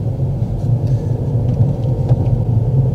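A car moves off with the handbrake not fully released, giving a low, steady engine rumble close by with no talking.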